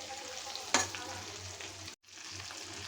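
Chicken pieces fry in a small amount of oil, a steady close sizzle with a sharp crackling burst near the start and a brief dropout before the frying resumes.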